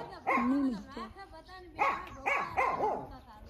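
A dog barks several times close by, sharp yelps in short bursts separated by brief pauses.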